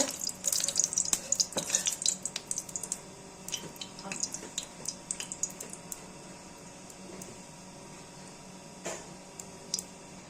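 About one and a half to two spoons of cooking oil are poured into a kadai for mutton keema, giving a close, liquid trickling and splashing that fades into faint sizzling and occasional small clinks.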